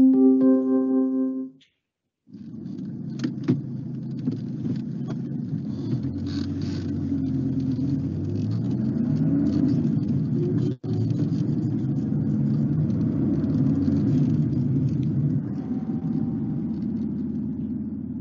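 Taxi or car driving, played in a German lesson, a low steady engine rumble with faint road noise after a brief tone at the start.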